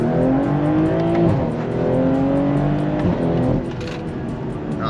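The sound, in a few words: BMW M340i accelerating in second gear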